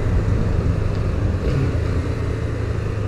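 Motorcycle with its original stock exhaust, a steady low engine drone running continuously close by with no sharp revs, fairly subdued and even throughout.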